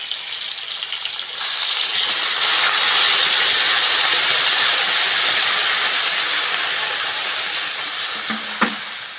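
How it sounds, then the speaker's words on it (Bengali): Water poured into a hot pan of koi fish curry with papaya, potato and green banana: a loud, close burst of hissing steam and bubbling that surges after a couple of seconds, holds, then eases with a small clink near the end. "এবার জল দিয়ে দেবো।"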